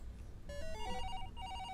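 A telephone rings with a bright electronic melodic ringtone, a run of stepped tones starting after a short quiet moment and repeating, fairly clear against low background hum.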